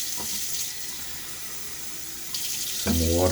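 Hard tap water runs from a faucet into a bowl to wet Klar Sandalwood shaving soap. A steady, moderately loud splash rises near the end as the flow strengthens.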